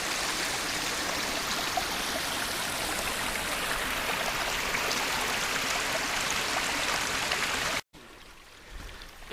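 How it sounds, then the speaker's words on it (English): A small creek crossing the Appalachian Trail near Lake Winfield Scott in January rushes and babbles steadily close by, a constant watery wash that cuts off abruptly near the end. "A little creek here that runs across the trail."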